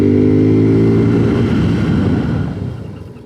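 A 2022 Suzuki Gixxer 250 motorcycle slows under both brakes, its loud engine note winding down steadily from a strong drone to a fading rumble, with wind noise and no talking.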